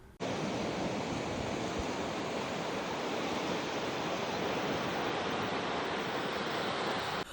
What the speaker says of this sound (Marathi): तर हा आहे आमच्या कोकणातला एक सुंदर शांत असा समुद्रकिनारा.